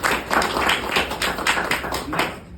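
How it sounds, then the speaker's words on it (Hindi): An audience claps for a little over two seconds at a presentation, a dense, fairly loud patter of many hands with a few stronger bursts, and no voices over it. "आप जोरदार ताली बजाइए इसके लिए"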